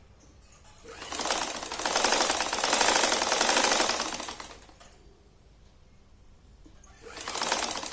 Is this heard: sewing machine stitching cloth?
yes